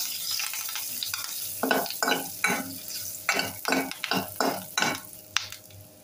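A spoon stirs cumin, curry leaves, asafoetida and a dried red chili through hot oil for Kerala-style sambar, about a dozen rhythmic scraping strokes over a soft continuous sizzle, close up and without speech.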